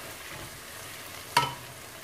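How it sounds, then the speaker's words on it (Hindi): Onions fry in a pan and are lightly browned for palak chicken, giving a steady, soft sizzle throughout, broken once by a brief clink of a utensil. "ये प्याज फ्राई हो रहा है, इसको मैं लाइट सा ब्राउन फ्राई करूँगी।"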